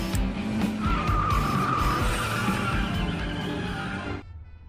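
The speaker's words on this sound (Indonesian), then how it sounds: "masuk ke mobil yang sudah disiapkan untuk mereka dan kabur dengan cara berjalan mundur" A getaway car speeds off in reverse with tires skidding, a loud sustained screech over engine roar that cuts off abruptly near the end.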